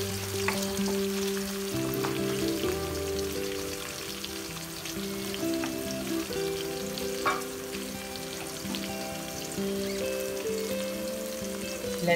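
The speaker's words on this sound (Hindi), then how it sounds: "अब हम इसमें शामिल कर रहे हैं लहसुन। लहसुन को भी हम हल्का सा ब्राउन करेंगे," Garlic sizzles and browns with onions in a frying pan for a beef and potato curry, a steady close crackle of frying with occasional stirring and no voices.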